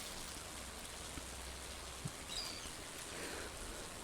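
Soft, steady rain patters in the farming video game Stardew Valley, a faint, even hiss with a few small ticks and no talking.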